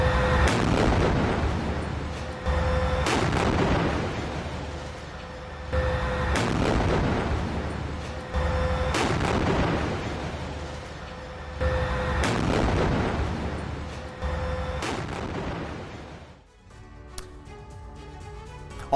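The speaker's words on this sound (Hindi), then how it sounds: "तोप से हमास के लड़ाकों के ठिकाने को उड़ाया गया" Heavy artillery cannon fire in the Gaza war booms repeatedly at regular intervals, each blast loud and echoing with a long rolling tail.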